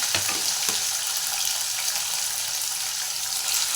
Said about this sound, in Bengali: তেলটা গরম হয়ে গেছে এবার তেল চিংড়ি মাছটা দিয়ে দিচ্ছি